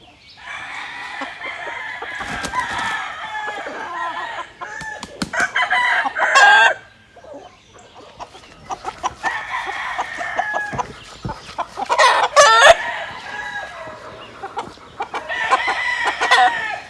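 Chickens and roosters on a farm, with repeated loud cock-a-doodle-doo crows breaking over steady clucking and squawking from a busy flock, heard close and continuous.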